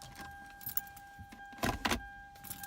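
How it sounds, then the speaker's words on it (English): Keys jangling near the steering column inside a 2002 Lexus ES300, a few short metallic clinks and jingles close by, with a faint steady electronic tone beneath. "Get rid of the keys and get rid of that noise there."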